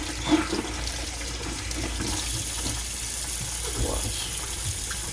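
Tap water runs steadily while oxtail and stewing beef are washed at a sink, a continuous moderate splash with a few brief louder bursts near the start.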